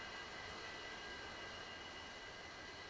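An Su-35 jet engine idling after a cold start in a flight simulator game, a steady whining turbine hum with a broad airy roar that stays constant and even, with no voices.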